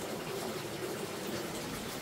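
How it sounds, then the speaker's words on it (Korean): A clear mountain stream runs past a remote hillside house, giving a faint, steady, even rush of flowing water with no breaks. "맑은 개울물도 이렇게 흘러내려가고"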